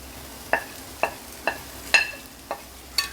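Masala spices are stirred into sautéed onions for a Kerala-style duck roast, and a spoon scrapes the pan in six regular strokes over a low background sizzle.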